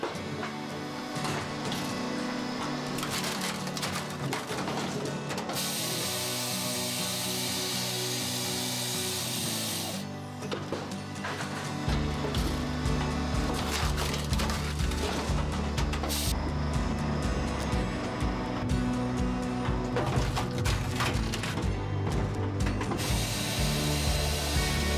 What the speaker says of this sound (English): the Bosch Spaltfix K440 showcases its efficiency, slicing logs into small, uniform pieces perfect for fuel and heating